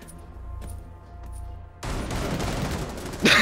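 Gunfire in Rainbow Six Siege erupts after a quiet stretch of faint ambient tones, a sudden dense burst of shots continuing loud to the end with a sharper crack at the close.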